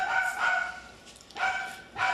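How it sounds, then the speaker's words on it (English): Dogs bark a few times at a moderate distance, each bark short and sharp, with brief gaps of quiet between them. "you got dogs barking, so you're just going to have to listen to the mutts bark."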